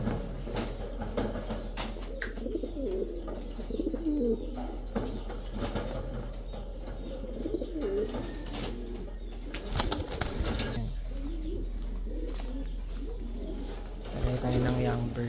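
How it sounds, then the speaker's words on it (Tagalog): Ice pigeons coo softly inside a breeder cage, with wing flaps and rustling over a steady low hum, while a person talks in the background. "Ayan yung ice pigeon."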